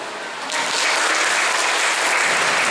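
A group of schoolchildren breaks into applause at a school gathering, starting fairly soft and swelling abruptly into loud, dense clapping that holds steady to the end.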